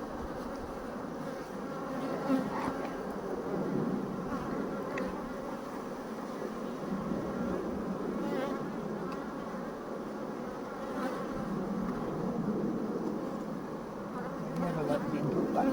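Honey bees buzz in a dense, steady drone throughout an open hive during a swarm inspection, close and continuous with no talk.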